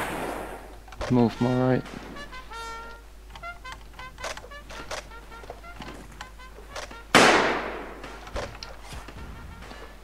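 Gunfire in the video game Blood & Iron No Man's Land: scattered shots pop within the battle din, ending in a loud, sharp volley near the end, while a player speaks briefly over the game.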